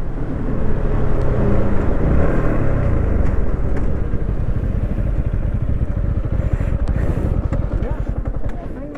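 Two motorcycles, a TVS Apache 160 4V and a Yamaha MT15 2.0, roar close by during a drag race, their engines loud and sustained as they rev hard with a steady throbbing rumble throughout.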